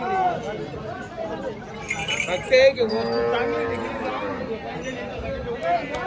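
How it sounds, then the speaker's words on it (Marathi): Cattle at a village cow market, including Gir cross and Jersey cross breeds, low at close range amid steady crowd chatter, with someone talking over the scene. "या बाजारामध्ये तुम्हाला गावरान गिर याचं क्रॉस या जर्सी क्रॉस अशा सर्व जातीचे तुम्हाला जोड्या वगैरे पाहायला भेटणार आहे"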